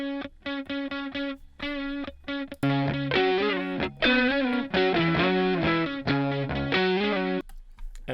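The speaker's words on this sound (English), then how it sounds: "So for Andy, it's those two guitars here for the final chorus, and they sound like this." Distorted electric guitars play a chugging riff of short chords, then settle into sustained, heavily driven chords, loud and alone.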